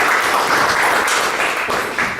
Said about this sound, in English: So let's give another warm round of applause for all the speakers.